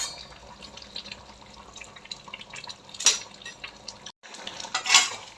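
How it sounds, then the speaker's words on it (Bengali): Chicken with kasundi, whole potatoes, cumin and peppercorns being stirred in a pan, giving soft scraping and clinks over a low sizzle, with two sharper scrapes near the end and no talk. "এইবারে নাড়াচাড়া করে মিশিয়ে নিচ্ছি।"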